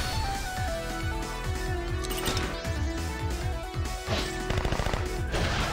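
Gunfire from the Submachine Gun skill in the video game Romancing SaGa re;UniverSe: rapid, dense bursts of shots and impact crashes layered over loud game music, continuous throughout.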